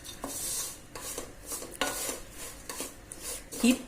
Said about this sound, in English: Keep on mixing it with a spoon